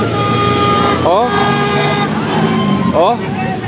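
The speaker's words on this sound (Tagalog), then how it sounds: "bumubusina sila guys" Car horns honk in sustained blasts over steady traffic rumble at a street protest, with voices talking and shouting throughout.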